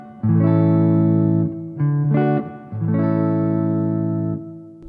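An ESP LTD EC-256 electric guitar played through its humbucker pickup, three sustained chords ringing out clearly and alone, each held then cut off, with full warm harmonics.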